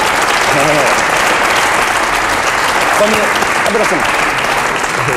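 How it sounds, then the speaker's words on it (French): Studio audience applause on a French television talk show, a sustained dense roar of clapping with faint voices and a few cheers threaded through it. "Vous pouvez l'applaudir."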